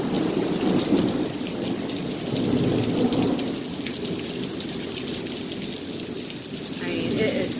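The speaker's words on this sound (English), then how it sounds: "this is probably one of the biggest storms I have seen here yet" A heavy thunderstorm roars nearby, with steady rain hissing on surfaces and rolling thunder rumbling underneath throughout, no speech.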